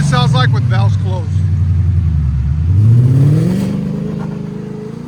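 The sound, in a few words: 2021 Ford Mustang GT 5.0L V8 engine revving, exhaust valves closed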